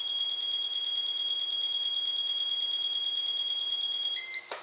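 A Walkera Ladybird RC transmitter gives a steady high electronic beep tone for several seconds as its rudder trim is adjusted, ending in a short double chirp, clear and close with no talking.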